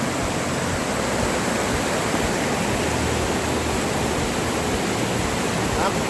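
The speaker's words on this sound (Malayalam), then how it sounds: "ഇതാ വെള്ളച്ചാട്ടം ഇതിൻ്റെ ഒരു ശബ്ദം മാത്രമേ ഇവിടെ നിന്നുള്ളൂ" Steady, dense rushing of a waterfall at Thenmala, Kerala fills the scene without pause, a constant broadband roar with no voices.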